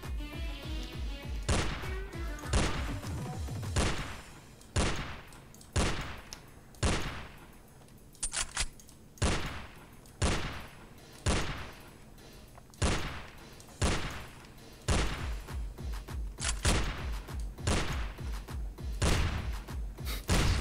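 Shotgun blasts in the video game Madness Deathwish 2, loud sharp booms firing one after another in a steady rhythm of roughly one to two seconds, with a few quick doubled shots.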